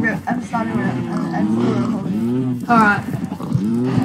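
Cows mooing in a video game, repeated long drawn-out moos that overlap one another, loud and close, with a voice talking in the background.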